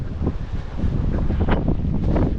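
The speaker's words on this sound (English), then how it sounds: "Can hardly hear anything because of the sound of the wind." Strong wind buffets the microphone during a long coastal run, a loud continuous roar with rumbling low-end gusts that surge and swell throughout, no speech over it.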